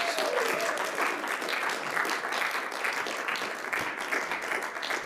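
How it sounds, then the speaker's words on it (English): A theatre audience applauds the actors after a play, sustained dense clapping from a full room lasting several seconds without a break. "Round of applause for the actors."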